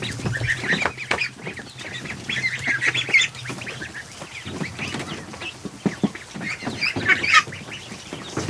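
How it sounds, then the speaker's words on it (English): A flock of geese and ducks in a barn gives loud, continuous overlapping honks and quacks close by, with no talk. "Oh, there's one of my geese."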